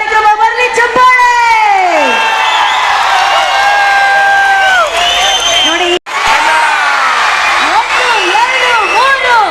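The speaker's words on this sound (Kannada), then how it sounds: "ಚಪ್ಪಾಳೆ" A large audience at the Kannada Sahitya Sammelana literary festival in Mandya whoops, shouts and cheers loudly, with some clapping mixed in. The sound is dense and sustained, with one brief cut near the middle and a voice calling out at the start.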